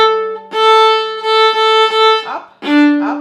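Viola bowed on open strings with alternating up and down strokes, sustained rich tones separated by brief breaks at each bow change, close and loud, alone without talk.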